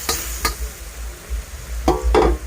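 Clean water is poured into a hot wok to rinse out leftover sauce while cooking Thai stir-fried Malabar spinach with pork belly. A few short scraping knocks come first, then a louder hissing splash sizzles near the end, with no talk.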